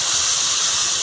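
Water hits hot oil in a pan of frying green bananas and potatoes for a village-style fish curry, giving a brief, loud, steady burst of steamy hiss.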